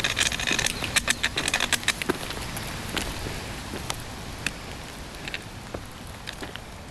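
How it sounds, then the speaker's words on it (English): Rain falls on a wooded stretch of the Appalachian Trail in Maine's 100 Mile Wilderness: close, scattered drops tap and patter irregularly over a soft background hiss, busier at first and thinning out. "Starting to rain, but so far not too bad."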